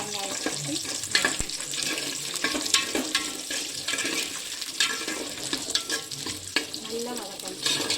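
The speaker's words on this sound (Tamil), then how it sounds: "பூண்டை போட்டு நல்லா வதக்கணும். பூண்டு வதங்கினோடனே சின்ன வெங்காயம் போட்டு" Garlic and small shallots sautéing in a pan for Tirunelveli sodhi, a soft steady sizzle with scraping stirs and clinks, fairly quiet and close.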